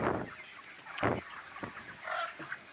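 Chickens cluck in a broiler poultry farm shed, a few short clucks and calls coming in bursts at moderate distance over a steady background hiss.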